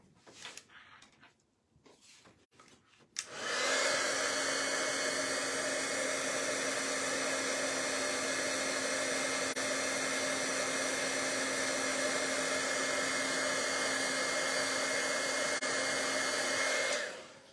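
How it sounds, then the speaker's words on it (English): A heat tool used for card making switches on after a few seconds of quiet handling noises, then blows with a loud, steady whine that holds unbroken to the end. "let's bring again the heat tool"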